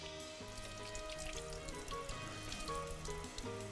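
Rice being rinsed under running water in a kitchen during a cooking show, a steady close splashing and trickling with faint background hum and no talking.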